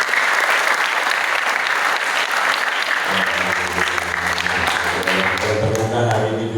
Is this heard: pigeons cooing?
no